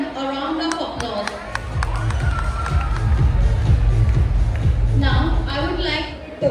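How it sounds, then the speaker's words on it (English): An audience at a golden jubilee event breaks into sustained applause and cheering, with a dense crowd of clapping hands and voices building and filling the room. "Let's all give them a round of applause"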